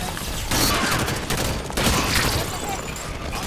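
Rapid gunfire from Halo 5: Guardians gameplay, loud bursts of shots crackling continuously throughout with a dense, noisy texture.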